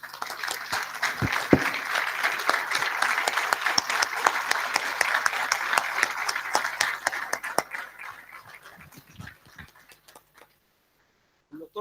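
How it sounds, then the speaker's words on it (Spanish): An audience at a panel event bursts into sustained applause, dense clapping that stays strong for several seconds before thinning out to scattered claps and fading to silence. "pido específicamente un aplauso para mi amigo, mi hermano de la vida"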